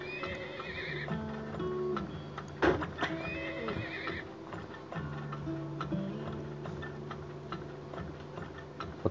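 Horses neigh and whinny in a strategy video game about drilling for oil, two long whinnies near the start and middle over a steady game bed with faint clip-clop and ticking.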